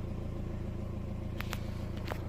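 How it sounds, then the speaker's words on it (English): A BMW car runs at a steady idle right after being switched on, its low engine rumble continuous and even, with a few faint electronic chirps or clicks near the end. "now I'm going to turn on the car just to see if it's working correctly"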